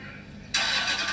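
A car engine starts with a sudden loud catch that settles into a steady running roar, close by.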